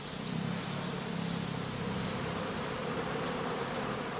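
Honeybees swarm out of a straw skep at a heathland house apiary in northern Lower Saxony, a dense continuous buzzing hum of many insects at moderate level, steady and unbroken.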